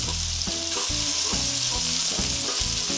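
Scallops sear in a hot pan with a loud, continuous sizzle and crackle, broken by low knocks and scrapes as they are moved around. Close and steady, no talking.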